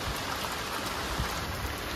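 Rain falls steadily at a fishing beach, a dense, even patter of drops without pause or voices.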